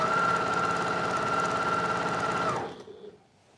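A sewing machine runs steadily and loudly while stitching rows of quilt blocks for an embroidered flower quilt, then cuts off near the end, leaving a brief quiet tail.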